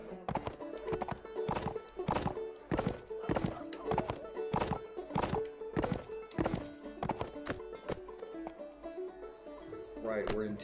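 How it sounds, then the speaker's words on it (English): Horse hooves clip-clop in a steady rhythmic gait in an American Civil War mod video game, loud and close, with occasional whinnies and game background sound throughout. "The horse's clip clop's too loud."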